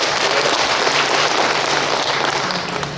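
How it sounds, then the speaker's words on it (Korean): Audience applause for a county governor at a residents' town hall meeting in Homyeong-eup, Yecheon County, steady dense clapping throughout, fading slightly at the end. "성심성의껏 또 대답해 주시는 우리 군수님께 뜨거운 박수 한번 부탁드립니다"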